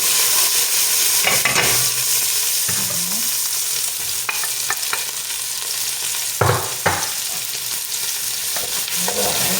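Lardons fry in a pan for a lemon chicken dish, giving a steady loud sizzle broken by several scraping stirs of a utensil, with no talking.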